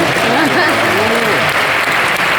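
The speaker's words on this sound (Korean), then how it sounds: "오늘 박수 쳐줘야 돼요." Audience applause in a large church assembly hall during a World Evangelical Alliance gathering in Seoul, loud sustained clapping throughout with a voice speaking over it.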